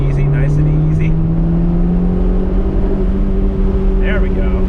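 A Honda CRX DX ED8 drives downhill with its engine humming steadily from inside the cabin, pitch rising slowly, while a few faint chirpy sounds come and go above it.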